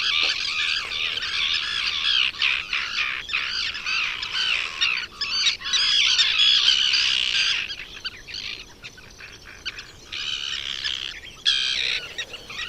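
Birds squawk and chirp almost continuously on the Île de Ré, a dense, busy chorus of calls that stays fairly loud and close throughout, with only brief dips.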